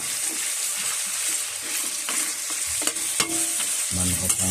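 Garlic and onions fry in a pan, a steady close sizzle with a few scraping stirs of a utensil near the end.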